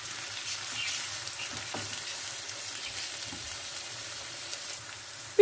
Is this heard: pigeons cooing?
no